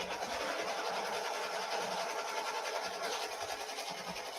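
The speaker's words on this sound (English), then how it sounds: "So I'm gonna press start again, and it's gonna do the placement stitch for the A." A machine embroidery unit runs a placement stitch on a towel, giving a soft, fast, steady mechanical whir with a rapid needle rhythm that stays faint and even throughout.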